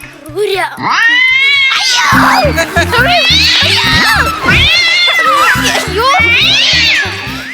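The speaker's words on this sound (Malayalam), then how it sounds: "എന്റെ പൊന്നു മനുഷ്യ അതൊരു പൂച്ചയാ" A cat meows and yowls repeatedly, loud and drawn out, over a rhythmic background of music-like pulses throughout.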